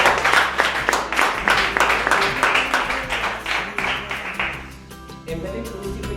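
Audience applause welcomes two musicians at a live circus-style variety show in Puerto Canopus, a dense steady clapping that gradually thins and fades toward the end.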